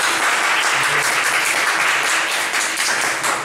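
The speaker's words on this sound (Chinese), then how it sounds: "我们一起掌声来欢迎孙琼礼先生" Audience applause welcoming a guest speaker at a talk: steady, dense clapping from a crowd, loud and even throughout with no voices over it.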